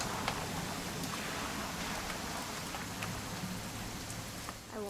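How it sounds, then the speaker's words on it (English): Steady rain pours in What Remains of Edith Finch, a dense even hiss of drops on surfaces continuing throughout, with a brief faint tonal sound near the end. "It's gonna rain the whole weekend, isn't it?"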